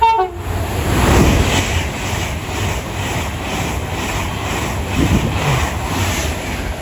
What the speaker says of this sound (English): Now passing through now, 13 minutes late, will be a Avanti West Coast service from Manchester Piccadilly to London Euston